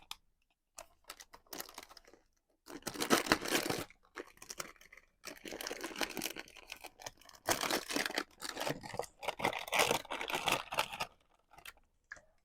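Paper tearing and crinkling as a cosmetics advent calendar's day-seven door is ripped open, close up, in bursts of rustling and ripping with brief pauses between.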